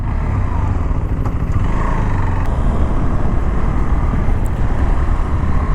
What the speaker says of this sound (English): Now let's take it to the road and see how good this motorcycle is.